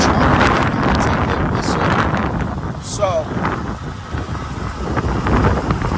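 Gusty wind buffets an outdoor microphone loudly and continuously, with someone speaking briefly over the roar.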